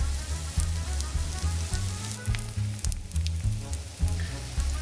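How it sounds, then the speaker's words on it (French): Corn galettes frying in olive oil in a pan, a steady quiet sizzle and crackle of hot oil with scattered pops, alone without voices. "Faites frire les galettes en les retournant régulièrement."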